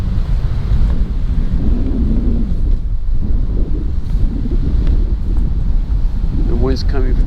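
Strong northwest gusts batter a Rode VideoMic Pro Plus mounted on a GoPro 10 outdoors, making a loud, continuous low rumble and buffeting, with a brief voice near the end.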